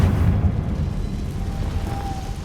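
A Confringo fire spell explodes in the video game Hogwarts Legacy as a single deep, rumbling boom that fades into a low, continuous roar.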